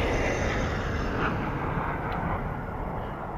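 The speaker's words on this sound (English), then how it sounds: "I love that sound effects they did to the glider. Sounds like a fucking jet engine." A glider in a squad-based battle royale video game whooshes like a jet engine, a loud, steady broadband roar sustained throughout with no talking over it.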